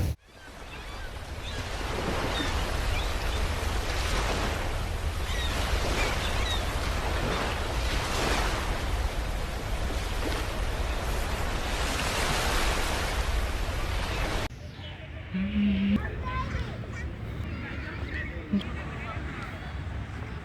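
Sea surf rolls onto the beach at Parki Char, a steady loud roar of breaking waves with slow swells, dropping to a quieter wash of water and faint background sounds near the end.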